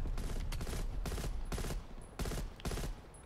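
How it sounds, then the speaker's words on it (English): Heavy artillery barrage in the Black Ops Cold War shooter, a run of loud, booming blasts landing close by in rapid bursts with brief gaps, roaring continuously for several seconds. "artillery right on my head"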